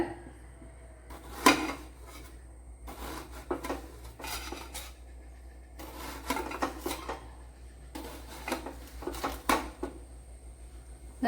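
A knife chopping a medium-sized onion on a board in a home kitchen for cucumber salad, heard as soft, scattered clusters of quick cuts and taps separated by pauses, fairly faint and with no talking.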